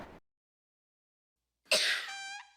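A person gives one sharp, loud cough that trails into a short rasping, wheezy tone, heard close up after a brief fragment of sound and a stretch of silence.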